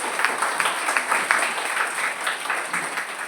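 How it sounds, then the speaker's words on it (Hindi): An audience applauds to welcome a guest at a parenting talk, a dense, continuous patter of many hands clapping that stays fairly even and moderately loud for the whole stretch. "आप सभी से भी आग्रह करती हूँ कि जोरदार तालियां बजा के हम इनका स्वागत करें।"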